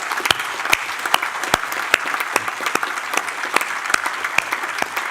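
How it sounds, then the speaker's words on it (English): Conference audience at the Riga Conference 2025 applauding the support team and volunteers, a dense, continuous round of clapping with sharp individual claps standing out, fairly close and lively, no voices over it. "So please, big applause to all the team supporters."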